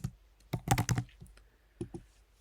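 Rapid bursts of typing on a computer keyboard while entering a deal record in a web app, keys clattering close and clear in two short flurries with a pause between.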